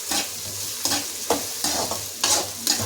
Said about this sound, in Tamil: வெங்காயம் நல்லா வச்சு கிளறினே இருக்கணும்.